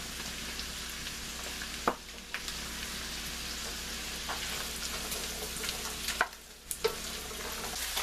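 Carrots and onions frying in butter in a pan, a steady soft sizzle with occasional stirring clinks, close and fairly quiet.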